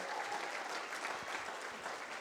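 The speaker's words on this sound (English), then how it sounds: "Can we give a round of applause for" Steady applause from an audience at a Black History Month community event in Hastings, dense and sustained throughout with no break.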